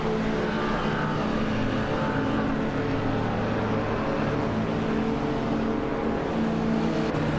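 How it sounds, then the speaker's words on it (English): Engine of a 1964 Austin Mini Cooper S racing in a video game, a continuous buzzing drone at steady volume with slight rises in pitch and other cars blending into the background. "Toddar Gardner is driving a 1964 Austin Mini Cooper S"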